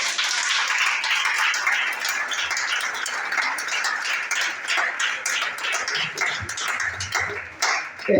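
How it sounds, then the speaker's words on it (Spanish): Congregation clapping during a Spanish-language Wednesday church service, rapid overlapping handclaps in a lively continuous stream with a few faint voices underneath. "Denle un aplauso al Señor."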